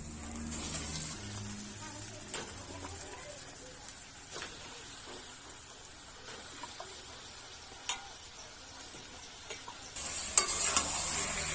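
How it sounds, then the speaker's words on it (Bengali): Chicken pieces fry in a karahi with nearly cooked spice masala, a soft steady sizzle broken by scattered scraping and clattering stirs from a spoon, closer and busier toward the end. "মাংসটা আমি এবারে কড়াইয়ের মধ্যে দিয়ে দেব।"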